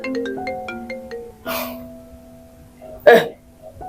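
A phone rings for an incoming call at night: a quick electronic ringtone melody of stepped tones, followed by a couple of louder, abrupt noises.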